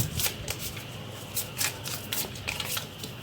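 A deck of tarot cards is shuffled close by in quick, repeated riffling bursts that form an uneven rhythm, with no talking.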